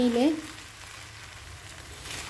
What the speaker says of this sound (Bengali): এখন এটা শুধু একটু নেড়ে ছেড়ে মিশিয়ে